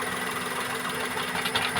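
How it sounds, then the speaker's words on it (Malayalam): A Maruti Wagon R with a K-series engine idles close by with its third cylinder's connection loosened, misfiring into a rough, uneven running with steady knocking vibration. "ഇത് നമ്മൾ മൂന്നാമത്തെ ഇങ്ങോട്ട് ലൂസ് ചെയ്യുമ്പോൾ തന്നെ എൻജിൻ നല്ലപോലെ ജെർക്കാവുന്നുണ്ട്"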